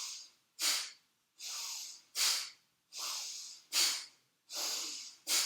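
Forceful rhythmic yoga bellows breathing, Bhastrika, done in Adi Mudra: close, loud nasal inhale-exhale rushes alternating about every three-quarters of a second, with no talking.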